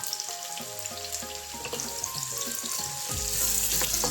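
A large chopped onion sizzles and fries in hot ghee in a pan, a steady close crackle with small pops and a brief stir, no talking.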